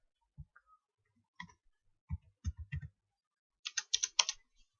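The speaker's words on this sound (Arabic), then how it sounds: "تعالى كده بقى نكتب الباسورد اللي انا لسه عامله حالا" Keys on a computer keyboard are pressed in short irregular bursts as a Wi-Fi password is entered, close and fairly quiet in a silent room, ending with a quicker run of clicks.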